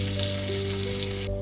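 Cauliflower and potatoes fry in hot oil, giving an even continuous sizzle that holds steady and then cuts off abruptly near the end, over a faint background hum.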